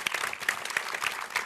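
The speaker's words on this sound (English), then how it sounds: "Round of applause for that." An audience at a live radio station anniversary event claps together, a brisk, fairly soft burst of many hands with individual claps standing out, steady for the whole stretch and without speech.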